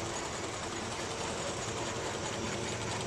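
HX836 spiral tube production machine running with automatic welding, cutting and coiling, giving a loud, continuous mechanical drone with a steady hum and no talk.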